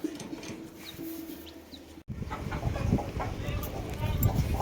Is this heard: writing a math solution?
no